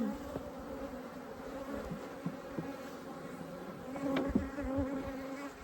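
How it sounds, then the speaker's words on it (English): Honey bees buzzing steadily around an open hive during a beekeeper's inspection, a continuous close, low drone with a few louder passes near the microphone and no talk. "That's some wax worms getting in there and hiding from the bees."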